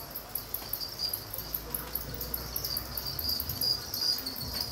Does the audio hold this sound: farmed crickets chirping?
yes